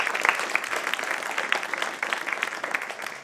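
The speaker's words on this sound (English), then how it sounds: "can we give all of the board presidents and the board members a round of applause?" A Sunday service congregation gives board presidents and board members a round of applause, a moderate patter of many hands that swells and thins slightly over a few seconds.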